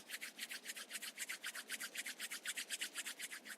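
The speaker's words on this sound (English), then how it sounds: "Rub your palms together." Palms rub briskly together in a steady rhythm during a seated yoga sequence, about twenty quick, soft swishing strokes heard close up with nothing else around them.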